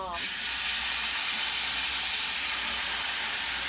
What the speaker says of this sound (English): So we're going to throw a bit of white wine.